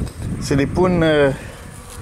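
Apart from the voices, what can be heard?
honeybees buzzing while frames are handled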